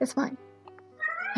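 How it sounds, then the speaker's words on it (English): House cat meowing and crying for food indoors, a drawn-out wavering meow following brief human speech, fairly quiet and close. "There's my crying cat, example A, because he wants the food."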